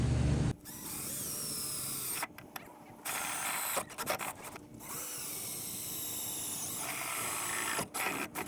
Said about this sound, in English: we can now drill the holes and mount the piece of sheet metal to the stock headlight housing